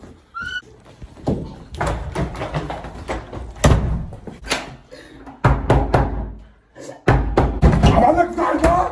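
Someone bangs hard on a house door in loud, uneven bursts of knocks, close by, while a voice shouts over the pounding.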